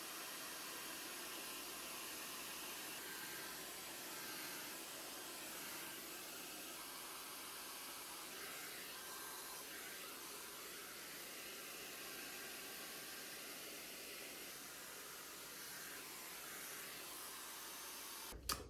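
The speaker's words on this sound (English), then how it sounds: "When I finish drying my hair" A hair dryer runs continuously while drying hair, a steady even whooshing roar at moderate level with no breaks, ending with a brief click.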